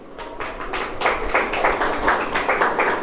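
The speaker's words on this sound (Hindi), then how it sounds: "ताली बजाएं।" Church congregation clapping hands together in a steady, fairly quick rhythm, loud and close, about a dozen claps over three seconds.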